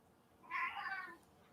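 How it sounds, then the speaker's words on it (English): A pet cat gives a single drawn-out meow close by, clear against a low background hum. "You are a pretty cat, but you're kind of a jerk."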